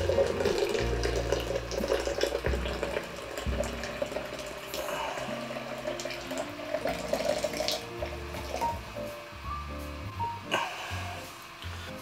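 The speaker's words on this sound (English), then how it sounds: "Go ahead and pour the rest of this water up in here." Hot water pours steadily into a French press of coffee grounds for several seconds, gurgling and splashing close up with a low background hum.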